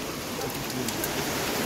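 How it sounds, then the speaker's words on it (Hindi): Rain falling at Tiger Falls waterfall near Chakrata: a loud, continuous broadband wash of downpour and rushing water close by, steady throughout with faint patter on top. "बारिश हो रही है हाफ आवर से ज़्यादा हमें हो गया है यहाँ पे"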